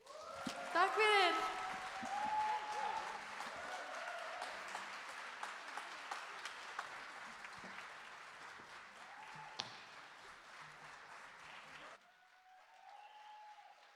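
Audience applause fills a hall at an Icelandic battle-of-the-bands evening after a band's set, sustained clapping with whistles and cheers near the start, then fading to a quieter patch near the end.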